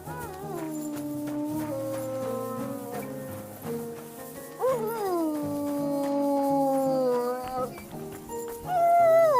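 Dog howling and whimpering in the medieval video game Kingdom Come Deliverance, drawn-out wavering cries that rise and fall over a continuous backdrop of game music, loud and close.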